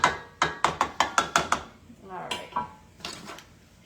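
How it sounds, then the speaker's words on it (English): A knife chops food on a board in a quick run of about seven sharp, even knocks, close and loud. A few scattered kitchen clatters follow during chili and cornbread preparation. "Let's go a couple more chops."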